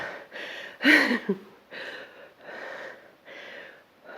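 Heavy, rhythmic breathing close to the microphone, a series of labored inhales and exhales with one sharper gasping breath near the start.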